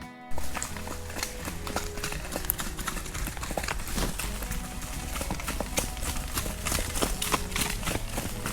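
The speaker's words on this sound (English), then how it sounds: "So we just had to come to a stop, let the horses go past." Horses walk past on a forest road in the New Forest, their hooves clip-clopping steadily and close by, with faint voices in the background.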